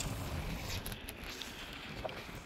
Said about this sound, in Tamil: இந்த காற்று வந்து சரியாக அடித்து கொண்டு இருக்குது.